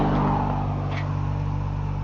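A car rolls past slowly at low speed, a steady mid engine drone close by that fades slightly over two seconds.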